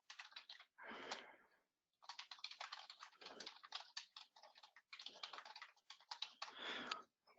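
Typing on a computer keyboard while entering text into a multi-line field, with quick bursts of close key clicks and a few short pauses, no talking.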